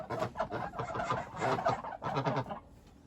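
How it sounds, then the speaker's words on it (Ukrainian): Ducks quacking and clucking in a loose chorus close by as they are let out on a farm in the morning, several birds calling at once with short gaps between bursts. "зараз випустимо качок"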